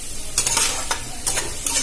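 Frying potatoes being stirred in a pan, with loud bursts of scraping and sizzle over a steady hiss, roughly three or four strokes in under two seconds.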